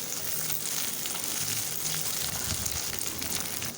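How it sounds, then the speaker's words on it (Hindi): Onions and okra frying in a pan for masala bhindi, giving a steady, close hiss of sizzling oil that runs without a break and without talk. "अब इसके अंदर भिंडी ऐड करूँगी और इसको मज़ीद फ्राई करेंगे"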